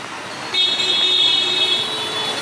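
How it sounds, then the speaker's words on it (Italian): A car horn sounds in one sustained blast amid steady traffic noise, fairly close, at a busy Vietnamese intersection. "Ma poi si suonano per clacson e via."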